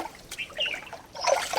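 Water poured from a container into a partly empty water bowl set out for birds, a short, soft trickling splash that swells toward the end.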